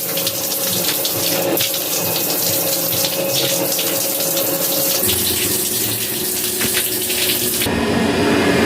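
Water pours steadily from a tap into a sink during face washing, a loud continuous splash close by that shifts in tone partway through, with no talking.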